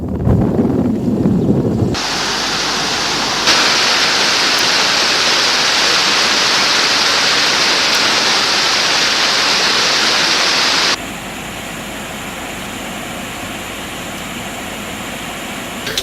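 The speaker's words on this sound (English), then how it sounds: "Two sluice gates of the Rajangania Reservoir were opened by up to 4 feet today." Loud, steady rushing of water released through two sluice gates of the Rajangania Reservoir opened up to four feet, a broad continuous roar that shifts in tone partway through, after a brief burst of other noise at the start.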